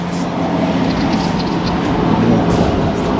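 Road trains crossing a bridge rumble past at a distance, a continuous low droning roar with steady hum and no voices.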